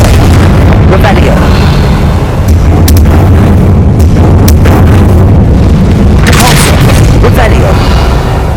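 Loud, continuous blasting from the Confringo fire spell in Hogwarts Legacy, with repeated booming explosions and crackling bursts filling the whole stretch while a voice calls out spells over it.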